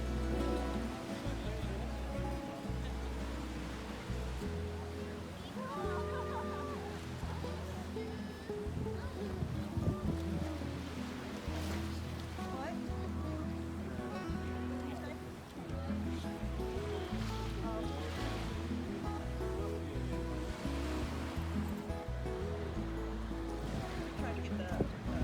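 Ocean waves wash steadily onto a beach in Oahu in the evening, a continuous rushing surf sound heard under ongoing talk and background music-like tones.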